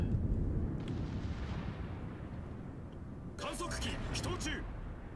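Ship guns firing rounds in World of Warships during a battle against the Yamato and Musashi: a dense, rumbling barrage of booming salvos with bright crackling bursts near the end, heard under steady game noise.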